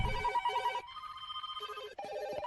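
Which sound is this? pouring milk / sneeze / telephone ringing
telephone ringing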